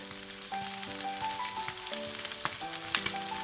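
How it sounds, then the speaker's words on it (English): Green chilies sauté in ghee butter over medium heat, producing a steady close sizzle with sharp little spits and pops, while tonal music plays underneath. "Just sauteing them in that ghee butter on a medium heat"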